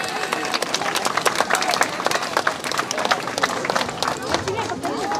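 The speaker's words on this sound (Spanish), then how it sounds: "Un aplauso fuerte, por favor," Outdoor crowd at a Central American torch reception in El Salvador gives loud, sustained applause, dense clapping mixed with cheering and babble close to the microphone.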